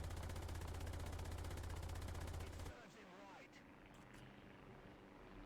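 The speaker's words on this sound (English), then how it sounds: "Why am I shooting at a hostile BF-110?" Gunfire in War Thunder, aimed from an Ersatz M10 tank at a BF-110 plane: a steady, rapid stream of loud shots with a heavy low rumble, which stops abruptly halfway through, leaving quieter engine noise and a voice talking.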